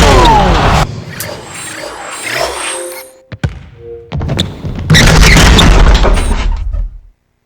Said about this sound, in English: Howard Clark, even the sound of that dunk was massive.